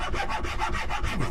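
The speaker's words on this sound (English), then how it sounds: "use the scraper, or you can get a lighter file and soften this out, make it easier to work" A hand scraper works the wood of an already-painted guitar body, smoothing a belly carve in a steady run of rapid, rhythmic back-and-forth rasping strokes, close and alone with no voices.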